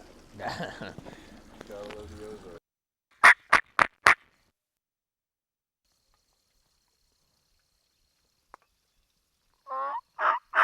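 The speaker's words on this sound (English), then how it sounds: "But there's a gobbler back there." A quick burst of four loud wild turkey gobbles, clear and fairly near, between stretches of someone talking and near silence, during a turkey hunt by a lake.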